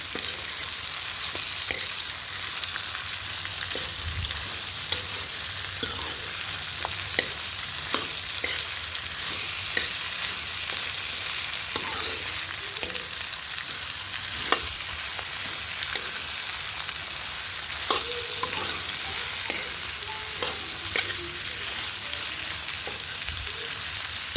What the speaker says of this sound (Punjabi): ਮੈਂ ਫਿਰ ਇਹਦੇ ਵਿੱਚ ਕੱਟੇ ਹੋਏ ਜਿਹੜੇ ਪਿਆਜ਼ ਸੀ ਗੰਡੇ ਬਰੀਕ ਬਰੀਕ ਕੱਟੇ ਸੀ ਉਹ ਪਾ ਦਾਂਗੇ ਨੂੰ ਮਿਕਸ ਕਰ ਦਾਂਗੇ ਤੇਲ ਦੇ ਵਿੱਚ